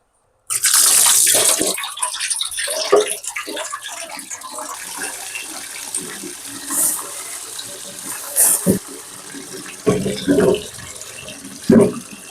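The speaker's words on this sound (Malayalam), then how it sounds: "ചൂര പക്ഷെ ഐസാണ് വെള്ളത്തിൽ ഇട്ട് വയ്ക്കാം" Tap water runs into a container to soak frozen tuna in a home kitchen, starting abruptly as a steady close gush, then shifting to splashing and intermittent bursts as the flow changes.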